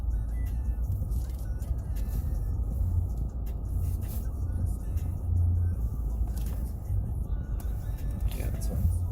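A full-size sedan's engine rumbles low and steady while the car is reparked, a constant deep drone heard from inside, with faint low voices beneath.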